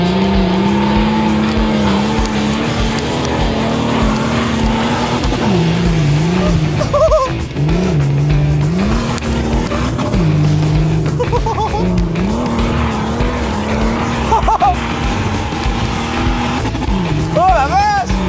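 A BMW M2's engine revs hard and its tires squeal and skid, a loud continuous roar with rising and falling pitch, while people talk excitedly over it.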